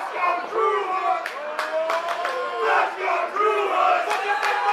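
A wrestling crowd at an RVA Pro Wrestling show roars and chants continuously, loud and close, with rising shouts and cheers swelling throughout.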